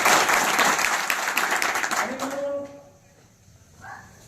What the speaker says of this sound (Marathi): त्या नेत्यासाठी अगोदर टाळ्या वाजवायचा